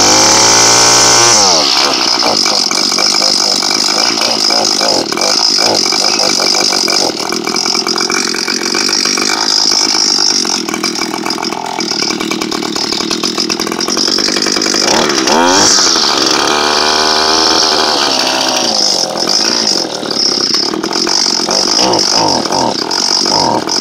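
Echo SRM230 string trimmer engine with carburetor problems running loud and close for over twenty seconds, droning unevenly with surging pitch and rough stumbles, no voices.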